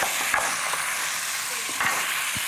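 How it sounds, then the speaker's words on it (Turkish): Tomatoes and peppers with chili sizzle softly in a frying pan while a utensil stirs them, giving a steady hiss broken by a few brief scraping knocks. "Ve biraz daha böyle karıştırıyoruz."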